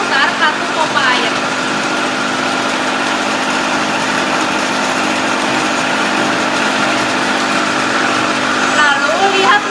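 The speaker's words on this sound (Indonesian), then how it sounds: "Setelah mesin open channel dinyalakan, atur debit atau delta H sesuai petunjuk instruktur dengan cara memutar kartu pompa air." An open channel flow lab machine with its water pump running gives a steady, loud, even mechanical hum and whir throughout, with a faint voice speaking over it at the start and end.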